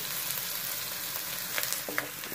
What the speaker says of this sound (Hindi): दो से तीन मिनट इसको नरम होने देंगे प्याज को।